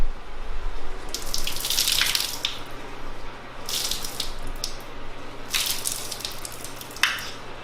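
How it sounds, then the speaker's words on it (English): Water splashes and trickles from a GT Shine GT Twist drying towel as it is wrung out after drying a car hood, in three hissing bursts of streaming water close by. "We'll go ahead and wring out the towel one more time here."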